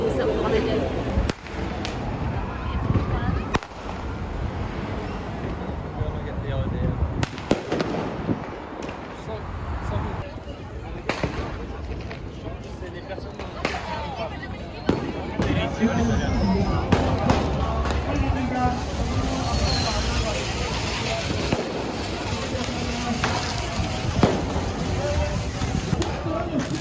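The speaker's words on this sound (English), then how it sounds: "can already hear like loads of fireworks going off" Fireworks go off in Barcelona streets on a holiday, scattered sharp bangs and pops near and far over a long stretch, with wind buffeting the microphone and people talking throughout.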